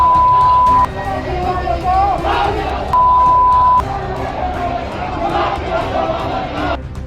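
A crowd gathered in Almora, Uttarakhand, a loud murmuring and shouting mass of voices with scattered cries, and a steady electronic beep sounding twice over the din.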